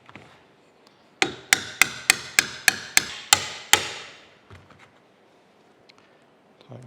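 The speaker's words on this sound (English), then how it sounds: "This pin driven in." A hammer drives a pin into the steady rest of a Monarch 28-inch lathe with nine sharp metallic blows in an even, quick rhythm, close by. Quieter clanks and handling noises follow.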